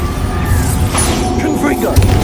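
Explosive Bombarda blasting spell going off in Hogwarts Legacy, a dense booming impact with crashing debris over steady background game noise, lasting a couple of seconds.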